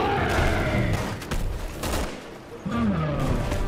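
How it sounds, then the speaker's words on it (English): Enemy gunfire in Resident Evil 6, a dense volley of shots from several directions, loud and continuous with a brief lull midway and a faint voice beneath it. "they're shooting me from everywhere"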